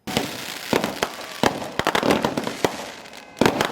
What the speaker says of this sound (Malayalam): അതോടൊപ്പം തന്നെ വെടിക്കെട്ട്